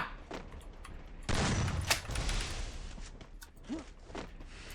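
Gunfire in a video game: a quick burst of shots and a sharp crack stand out over a faint, quiet background, followed by a few softer scattered pops.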